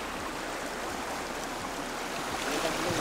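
A freshwater stream flows steadily nearby, a constant broadband rush of running water with no voices.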